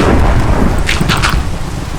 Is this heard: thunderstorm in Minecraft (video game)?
yes